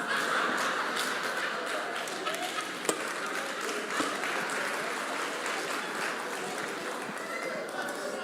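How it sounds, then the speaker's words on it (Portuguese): Church congregation clapping, a steady dense wash of many hands throughout, with a few sharper taps and thumps standing out over the crowd noise. "Não aplaude não, irmão, não pode aplaudir isso aí não."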